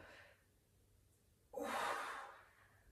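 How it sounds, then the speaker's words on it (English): Exercise breathing: a soft inhale, a pause, then one strong, forceful exhale lasting about a second, close and clear in a quiet room. "Slowly breathe in, strongly breathe out."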